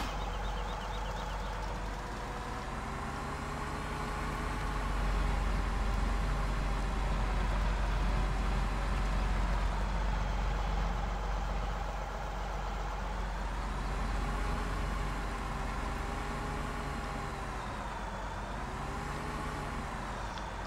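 A combine harvester engine in Farming Simulator 17 drones steadily throughout with a constant low rumble and tonal harmonics that slowly swell and dip in pitch.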